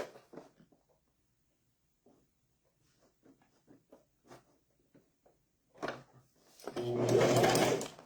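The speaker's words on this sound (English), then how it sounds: "I'm just going to sew all the way around." Quiet taps and handling noises of fabric being arranged come first, then a sewing machine starts stitching around a gingerbread-shaped mystery bag in a steady close buzz during the last second or so.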